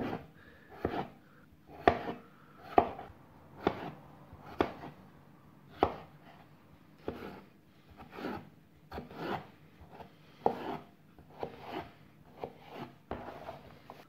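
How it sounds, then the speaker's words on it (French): A knife dices potatoes into brunoise on a cutting board, producing a steady series of close, crisp chopping strokes about once per second, with no talking. "on va faire brunoise de pommes de terre"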